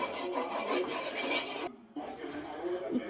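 Cuttlefish fry with chili powder, turmeric and garam masala is stirred in a pan, a close scraping and rasping of utensil on metal that runs in scratchy strokes, stopping briefly midway before resuming.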